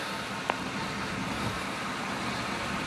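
A 2002 Cadillac Escalade with all-wheel drive idles in a steady, broadband rumble and hiss, close and constant, with one faint click early on and no talking.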